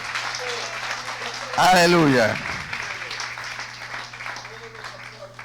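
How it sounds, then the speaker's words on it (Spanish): A church congregation applauds at a Sunday school service, a steady wash of clapping running throughout while a voice calls out briefly over it. "Ese aplauso para el Señor."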